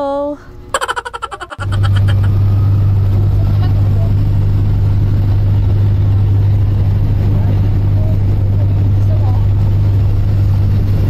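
Riding in a jeepney toward Quezon City Circle, with a loud steady engine drone and road rumble filling the cabin after a brief burst of voices and laughter at the start.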